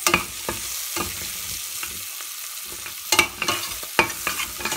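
Rice being fried and stirred in a pan with pulao masala for matar pulao, a steady sizzle under a spoon scraping through the grains in irregular bursts, close and fairly loud, with no voices.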